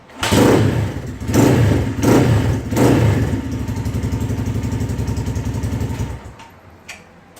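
A Storm engine fitted with a knockoff PZ30 carburetor cold starts with several loud revving bursts. It then settles into a steady, throbbing idle that drops away near the end.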